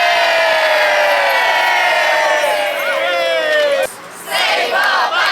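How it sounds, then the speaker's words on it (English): A protest crowd outside the threatened Steble Street Baths lets out a loud, sustained cheer of mixed shouts and whoops. It drops off abruptly near the end, then surges again. "can we have a big cheer after 3?"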